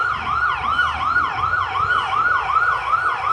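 Ambulance and fire truck sirens wail in a fast, repeating up-and-down sweep, loud and close over a low rumble of road traffic in Austin.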